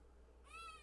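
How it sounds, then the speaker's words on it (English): A cat gives a single short, whiny meow in the background of a quiet room, brief and fairly faint. "Sorry about the cat in the background."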